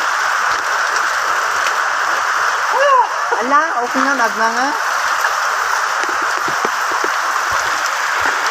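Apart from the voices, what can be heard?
heavy rain falling outdoors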